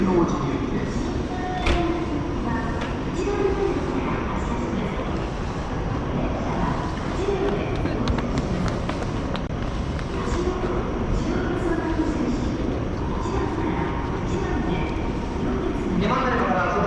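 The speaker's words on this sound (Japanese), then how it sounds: "到着の電車、普通天王寺行きです。" An Osaka Loop Line local train bound for Tennoji pulls in at a busy station platform, a steady rumble of wheels and rails with brake squeals and platform noise throughout, plus station announcements over it.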